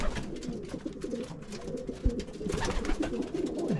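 Racing pigeons coo in a low, soft, continuous murmur nearby, with several birds overlapping and a few brief louder thumps partway through.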